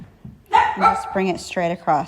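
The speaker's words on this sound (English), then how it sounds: "Sorry for the dog commotion as well." A dog barks in the background of a kitchen where cookies are being decorated, its yips mixed under a woman's close, steady talk.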